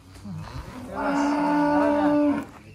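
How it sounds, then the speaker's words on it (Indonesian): A cow lets out a single long, loud moo that rises and holds before trailing off, close by. "ini Setiawan punya sapi kayak gini"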